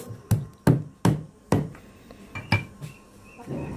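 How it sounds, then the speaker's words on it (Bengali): A cleaver chops large, hard raw mangoes into pieces for mango pickle, each mango cut into eight. About seven sharp, close thwacks land at uneven intervals, with quieter knocks between them and no talking. "আমরা কাটার জন্য এখানে চাপাতি ব্যবহার করেছি, কারণ যে শক্ত এটা বটি দিয়ে কাটা সম্ভব না।"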